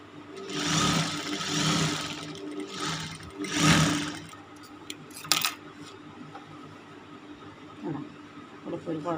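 A sewing machine stitches the sleeve of a jilbaab in short whirring runs, loud at first and then quieter, with clicks and handling sounds between bursts and a voice talking over parts of it.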